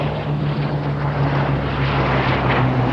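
A Hawker Sea Hawk jet of the Royal Navy Historic Flight flies an airshow display, its engine a loud, steady roar holding constant for the whole stretch with no voices.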